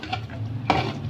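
A spoon stirs kasuri methi (dried fenugreek leaves) into chicken biryani masala in a cooking pot, with soft scraping and a low sizzle and one louder clunk of the utensil partway through.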